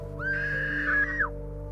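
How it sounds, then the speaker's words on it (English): A single drawn-out high scream from a woman, rising and holding for about a second before dropping off, heard over a steady low hum with no talking. "That was a woman's scream."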